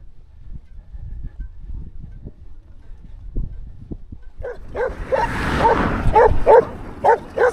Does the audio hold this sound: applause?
no